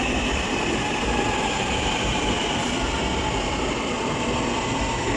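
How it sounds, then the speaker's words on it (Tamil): An MRT train arrives at Titiwangsa station platform 1 in Kuala Lumpur, a loud, steady rumble of rolling rail wagons filling the whole span with no voices over it. "இந்த ட்ரெயின் வருது எங்களுக்கு"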